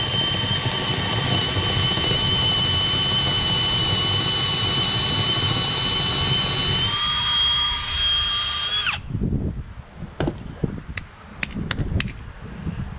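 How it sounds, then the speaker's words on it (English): A drill driving a 5/8 inch bit into wood for a carpenter bee trap, a loud steady high whine for about nine seconds that then stops, followed by scattered clicks and knocks. "we're gonna take a 5/8 bit. And we're gonna run it on down the hole."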